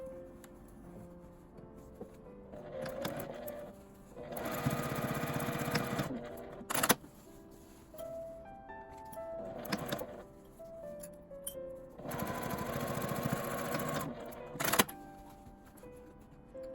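A sewing machine stitches a fabric tent pouch along a 1 cm seam allowance in two sustained whirring runs, separated by quieter pauses and a few sharp clicks.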